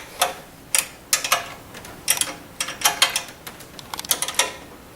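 Wrench tightening fasteners on a machine's strengthening member, heard as a series of quick metallic ratcheting clicks in irregular bursts, close and fairly crisp, with no talk.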